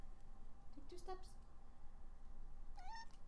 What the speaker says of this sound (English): Let's get a close up of the kitties.